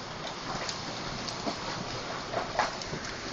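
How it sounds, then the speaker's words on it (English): Quarter-size hail falls during a Denver metro area hailstorm, a steady hissing patter of stones hitting the ground and nearby surfaces, with a few sharper knocks standing out. "That is some big hail."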